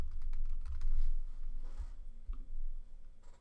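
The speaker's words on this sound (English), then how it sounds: "you're going to type in Google Shopping." Keys on a computer keyboard clatter in a quick, uneven run of close taps, with no voices over them.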